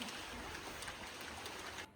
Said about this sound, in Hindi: बारिश हो रही है बाहर तो